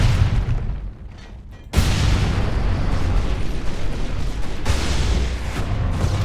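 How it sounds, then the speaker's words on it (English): Ork rocket launcher blasts in the Warhammer 40,000: Space Marine Remastered game, a dense, continuous roar of booming explosions and battle noise, loud and close, with a brief dip before the barrage surges again. "Orc rocket launchers."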